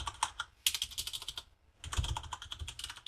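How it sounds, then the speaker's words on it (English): Rapid typing of a username and password on a computer keyboard, close and clear, in two bursts of quick keystrokes separated by a short pause, heard alone. "If we type in our username and password"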